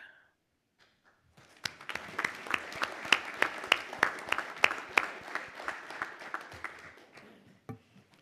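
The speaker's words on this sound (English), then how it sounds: "there is lots of applause for your comments" Sustained applause fills a city council meeting room in Olympia, a steady burst of clapping from a crowd that rises after a brief pause and then tapers off.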